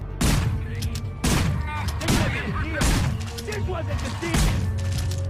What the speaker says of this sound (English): Up there, the Rabbit has armed himself with a shotgun, and is accompanied by a Cerberus guard carrying a sniper rifle